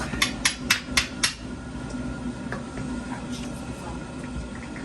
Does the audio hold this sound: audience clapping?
no